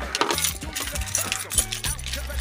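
Keys clink and jingle in a few bright metallic bursts against something hard, handled close by while a low hum runs underneath.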